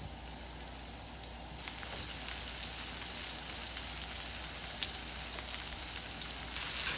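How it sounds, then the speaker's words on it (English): Onion and vegetables sautéing in melted butter in a skillet give a steady, close sizzle with fine crackling pops running the whole time, a little louder toward the end. "we're gonna let that melt and then saute our veggies"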